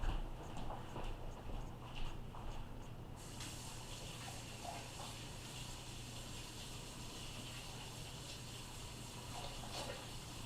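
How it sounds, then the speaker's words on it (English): Hands rinsed under a running tap, a steady gushing stream of water with splashing that grows fuller and louder a few seconds in and keeps going to the end, with no talking. "Let me rinse my hands real quick"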